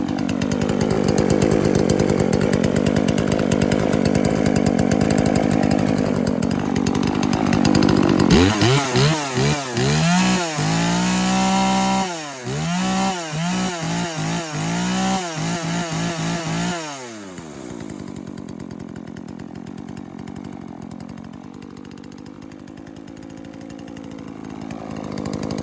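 A Husqvarna 240 chainsaw running after a carburetor rebuild, loud and close: steady high idle, then a series of sharp revving bursts rising and falling, before settling back to a quieter idle.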